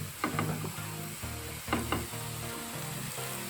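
Beef chao fan sizzling in a pan while being stirred, a steady close hiss broken by two clusters of scraping clatter from the spatula, with a faint tonal hum under it and no speech.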